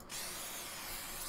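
A short spray hiss from the video game The Convenience Store, a steady broadband hiss starting after a brief gap and held for over a second at moderate level.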